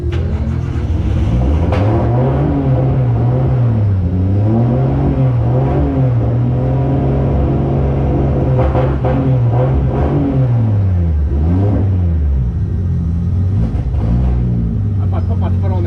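Nissan S14 Silvia fitted with an RB25 engine, revving repeatedly up and down in loud close waves over a rough running rumble, with a voice speaking over it.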